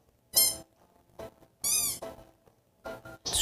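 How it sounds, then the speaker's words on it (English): A squeaky toy is squeezed in a few separate bursts, some long and wavering, others short, with silent gaps between. "Squeaky toy noises."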